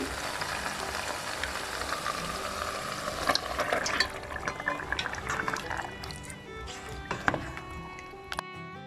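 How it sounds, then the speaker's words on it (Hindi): Chicken liver going into ginger, garlic, tomato and green chilli frying in oil, a soft wet sizzle with stirring and a few clinks, fairly quiet and close, without talk. "अब हम इसमें चिकन लिवर डालेंगे"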